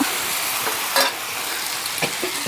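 Masala-coated fish fries in a pan with a continuous sizzle, broken by brief scrapes and clatters as the pieces are turned over.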